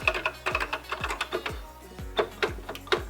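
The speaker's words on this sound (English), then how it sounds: "the rest of the keys have a very nice feel to them" Typing on the keyboard of a 1984 Dragon Data Dragon 32 home computer, a quick series of close, crisp key clacks with uneven rhythm, each press sharp and distinct in a quiet room.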